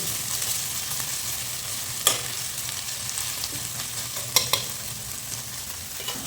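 Steady, close sizzling of food sautéing in hot sunflower oil for an egg gravy, with occasional sharp clicks of a spoon against the pan over the continuous hiss.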